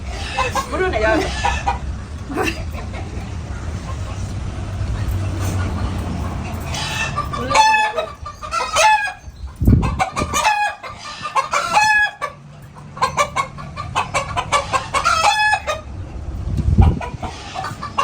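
Chickens cluck close by in repeated bursts, and a rooster crows. People talk over and between the calls.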